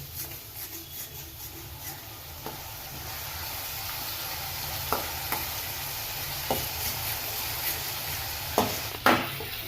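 Onions cook in a pan over a medium gas flame for a Gujarati black chana curry, a steady, gentle sizzle with occasional sharp spoon scrapes and taps against the pan.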